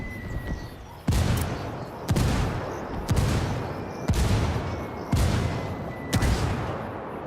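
Video game shooter gunfire rings out in a competitive scrim: six loud, evenly spaced heavy shots about a second apart, each with a booming decay, over a faint background and no clear talk.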